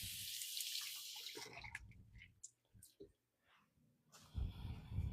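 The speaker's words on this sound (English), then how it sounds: "So here we're going to use this is some Italian parsley. I'm going to give it a quick rinse." Tap water runs briefly over a bunch of Italian parsley being rinsed at a kitchen sink, a short splashing burst at the start and again at the end, with a voice talking in between.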